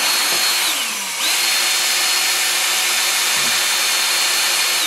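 A cordless drill turns the oil pump on a 1988 Jeep XJ 4.0 engine with a loud, close, steady whine that sags and slows briefly near the start, then settles back to an even drone.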